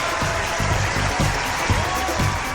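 A crowd claps in steady, dense applause for the whole span, a continuous even patter with a voice faintly underneath.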